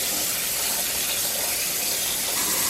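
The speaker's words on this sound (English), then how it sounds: "And we're gonna add some more water in there." Water pours steadily from a tap into a cooking pot while shrimp and broccoli alfredo is being made, a constant close rushing gush with no break and no voices.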